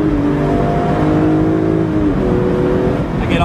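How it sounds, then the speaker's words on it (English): A BMW M3 Convertible's engine drones loudly and steadily, its pitch easing down as the transmission downshifts before revving back up near the end. "If I want to switch lanes, it'll still downshift like any other sports car without having to touch it."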